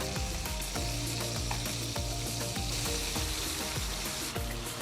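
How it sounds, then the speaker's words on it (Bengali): Pieces of shing fish (stinging catfish) sizzle and spit in hot oil in a pan as they are turned to fry the other side, a steady frying hiss running under a loud rhythmic musical backing. "এখন মাছটা উল্টে অন্য পিঠ ভেজে নেব"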